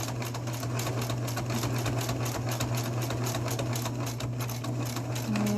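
A sewing machine stitches through thick stacked face mask layers, a fast steady motor whir with rapid needle chatter running continuously and close, shifting slightly in pitch near the end as a back stitch begins.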